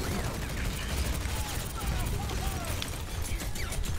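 Dense, continuous gunfire and battle effects fill a match of Overwatch, rapid shots layered with crashes, with a voice faintly under the din.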